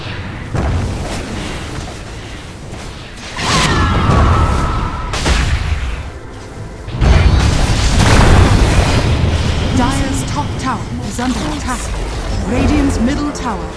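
In Dota 2, a tower comes under attack and is destroyed amid repeated booming explosions and bursts of battle noise. A voice announcement plays over the heavy, layered fighting.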